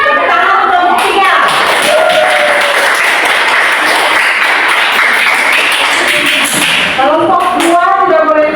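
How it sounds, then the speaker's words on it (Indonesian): Classroom group clapping for a student team, loud sustained applause from a room of pupils, with voices and teacher's speech audible at the start and end. "Tepuk tangan untuk kelompok 3."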